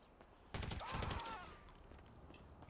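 A loud, close burst of rapid gunfire in Grand Theft Auto V erupts suddenly, then tails off into ringing and scattered background noise.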